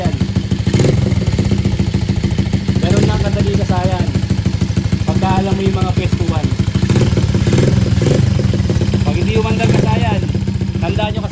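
A stalled motorcycle restarted after its fuel filter was cleared, engine running loud and continuous with a throbbing, clattering mechanical rhythm and steady exhaust drone throughout.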